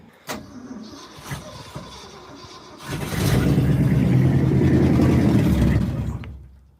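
The engine of a rusty 1967 Ford F250 crew cab bumpside pickup cranks over for a few seconds with sharp clicks, then catches and roars to a loud, rough idle before cutting off, heard close up.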